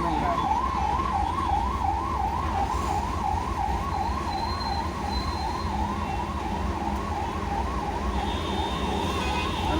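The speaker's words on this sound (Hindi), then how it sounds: "धीरे धीरे क्रॉस हो रहा है एम्बुलेंस।" An ambulance siren wails in a steady, continuous rise-and-fall cycle in a Mumbai traffic jam at a night police checkpoint, loud and close over a constant low rumble of idling traffic.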